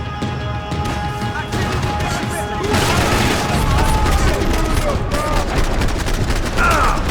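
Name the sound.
gunfire in video game Max Payne 3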